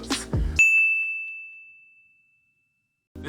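A notification bell rings once with a bright, clear ding that rings on and slowly fades into silence, loud and isolated, followed by the start of a voice at the end.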